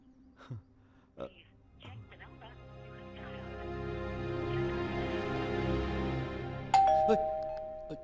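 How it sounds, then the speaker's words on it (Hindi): A two-tone doorbell chime rings out near the end, following scattered clicks and a low rumbling hum. "डोरबेल है।"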